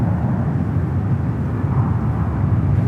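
A British Airways jet taxis toward the international gates at San Francisco airport, a steady low engine rumble and whine holding at a constant, fairly loud level with no voices.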